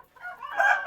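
Chickens on a poultry farm kept warm by a heating bulb in winter give a brief, close clucking call that rises and brightens toward the end.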